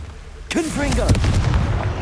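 A Confringo fire spell blasts in Hogwarts Legacy, a sudden loud burst with a booming, rumbling tail that carries over a short spoken incantation.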